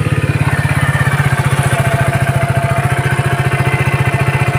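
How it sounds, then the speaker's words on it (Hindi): Close, loud and steady, a Hero HF Deluxe BS6 motorcycle engine runs with an even rapid thumping beat and a faint mechanical clatter, with no voices. "और इंजन साउंड पहले मैं आपको सुना दूँ"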